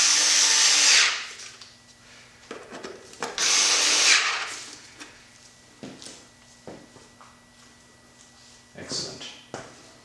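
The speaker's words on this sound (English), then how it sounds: "so I'm going to tighten these two as well." A handheld power tool drives fasteners tight in two loud, high whirring bursts, followed by quieter handling clatter and a brief final buzz, with a person talking in between.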